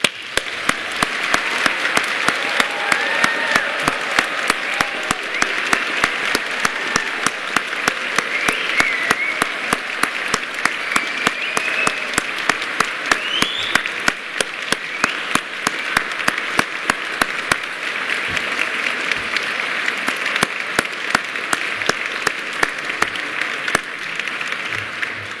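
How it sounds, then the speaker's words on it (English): A large audience at a graduation ceremony claps for the graduates in sustained, dense applause that holds steady and loud throughout with no talking over it. "give all of these amazing graduates just a huge round of applause"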